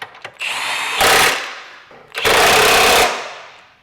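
An impact wrench tightens bolts on a lift kit for a 2017-2025 Honda Ridgeline, with two loud, close hammering bursts, each about a second long, separated by a short pause.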